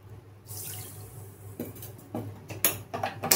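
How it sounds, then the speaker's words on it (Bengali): Water pours from a bowl onto a bowl of sugar to make jalebi syrup, a soft continuous trickle and splash close by in a quiet kitchen, ending in a few clinks of a utensil. "1 বাটি চিনিতে আমি হাফ বাটি জল দেব"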